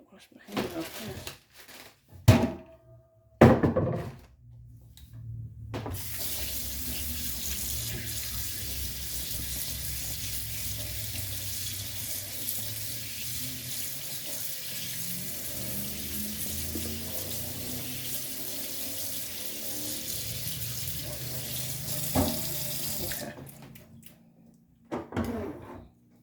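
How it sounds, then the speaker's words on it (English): Hands being washed under a running sink tap, a steady hiss of water lasting about twenty seconds, preceded and followed by clunks and handling noises. "Should wash my hands off first."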